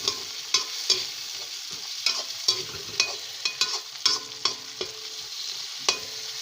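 Chicken liver cooks in a pan with a steady, low sizzle, and a spoon stirs it every half second or so, clinking and scraping against the pan close by.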